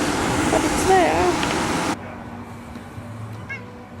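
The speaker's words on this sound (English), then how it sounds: "Oh, kitty." A cat meows a few times close by with a rising, wavering call, over steady outdoor background noise that drops away abruptly partway through.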